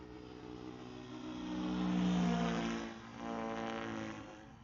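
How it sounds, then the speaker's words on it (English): A FlyWing FW450 V3 RC helicopter flies nearby with a steady buzzing rotor and motor drone that swells louder through the middle, dips briefly, then rises again. "Fly it around just like a normal helicopter."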